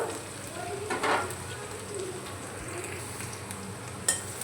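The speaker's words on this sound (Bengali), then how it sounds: "তো এখন পনিরটা ভেজে নিচ্ছি" Paneer pieces fry in hot oil in a home kitchen pan, a soft continuous sizzle with a few light utensil clinks and taps close by.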